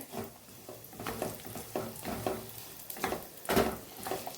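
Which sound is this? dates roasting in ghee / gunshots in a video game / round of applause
dates roasting in ghee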